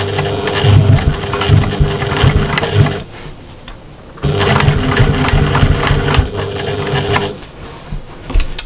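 A sewing machine stitches along the straps of a patchwork shopper bag, running loud and steady in two long bursts separated by a short pause, with a rapid mechanical chatter close by.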